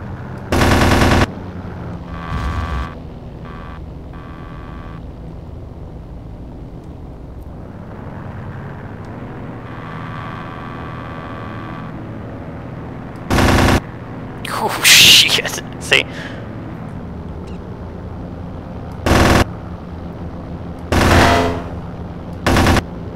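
Aircraft cannon fire in the Aces High 2 combat flight game: several loud, clipped bursts of rapid automatic fire, separated by gaps filled with steady engine drone and a brief whine-like rush of noise.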